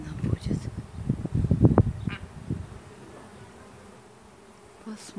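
Honey bees swarming buzz around close by, their droning hum loudest at first and fading, while a person talks over them.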